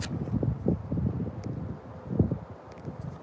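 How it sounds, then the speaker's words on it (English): Gusty wind at a hilltop lookout buffets the microphone in low rumbling bursts, with faint rustling between gusts and no voices. "A little windy."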